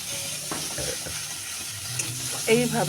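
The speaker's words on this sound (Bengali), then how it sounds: "তারপর আবার তেল গরম করে পুরো পেস্টটা আমি কড়াইতে দিয়ে ভালো করে নাড়িয়ে নেব" Prawn paste being stirred and fried in hot oil in a wok, with a steady soft sizzle and scraping stir strokes throughout, growing a little louder near the end, with a brief spoken word.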